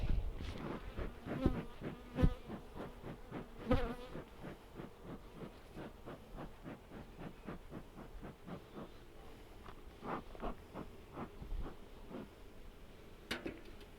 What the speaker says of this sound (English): So this is a healthy, good hive.